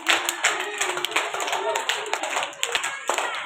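Children clapping their hands at a nursery class event, a dense run of quick claps that continues steadily, with voices mixed in throughout.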